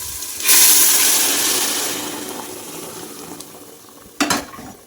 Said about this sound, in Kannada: ನೋಡಿ ಎಷ್ಟು ಬೇಗ ಕುದೀತತೆ